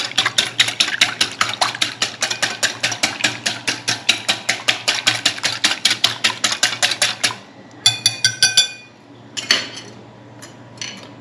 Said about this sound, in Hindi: 1 अंडा, आधा चम्मच नमक, 1 चम्मच काली मिर्च और इसको अच्छे से फेंट लेंगे।